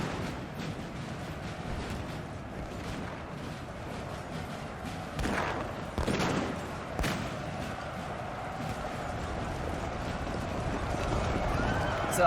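Cavalry horses galloping across a Napoleon Total War battlefield, a steady churning rumble of hooves mixed with distant artillery thumps and musket pops, rising slightly toward the end.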